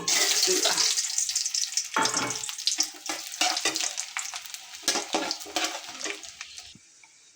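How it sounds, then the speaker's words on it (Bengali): Cashew nuts poured into a pan and frying for semolina halwa, a loud crackling sizzle at first that breaks into bursts and stirring scrapes, fading toward the end. "তো প্রথমে আমরা কাজু বাদামগুলো ঢেলে দেব।"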